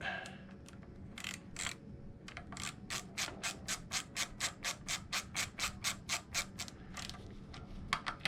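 A ratchet tightens the nut on a Wintersteiger Waxjet Pro wax wheel hub. A few scattered clicks give way to a steady, close run of evenly spaced ratcheting clicks, with no talk.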